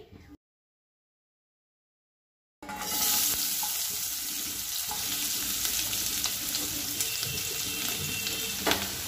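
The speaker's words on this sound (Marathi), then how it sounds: "यामध्ये आता आपण काजूच्या भाजीचा मसाला भाजून घेणार आहोत" Cashew curry masala roasting in a pan for a dhaba-style kaju curry, a steady broadband sizzle and frying hiss after a brief silence, close and continuous with faint stirring scrapes and no talk.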